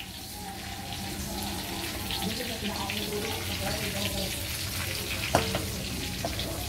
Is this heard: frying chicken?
yes